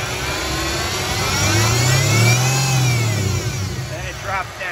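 A Mercedes CLK55 engine runs with a steady rumble and swells into a rev that peaks and settles, staying loud and close throughout, with no one talking over it.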